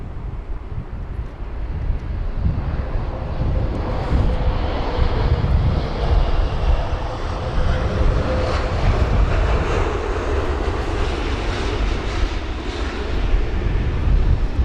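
A Boeing 777-200ER airliner comes in to land at London Heathrow on a windy day, its engine roar building from a low rumble into a loud, sustained drone, mixed with gusty wind buffeting the microphone.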